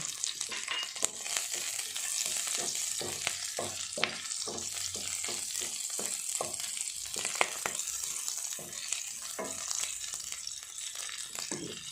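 Curry leaves, chopped green chilies and oil sizzle in a pan for a bitter gourd masala curry, with a steady hiss broken by scattered crackles and stirring scrapes, close and moderately loud, with no voices.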